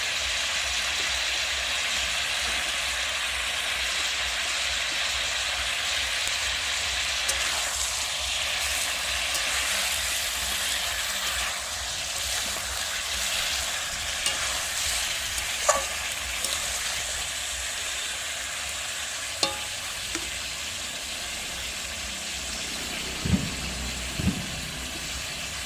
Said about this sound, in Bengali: এবার কষিয়ে নেব তেলের ওপর। দিয়ে দিচ্ছি কুচানো পেঁয়াজ